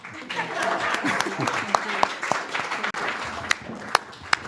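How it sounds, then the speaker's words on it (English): Applause from an audience at a Universal Peace Federation award ceremony, a dense wash of clapping with a few sharper individual claps standing out, with voices mixed in. "You can clap again."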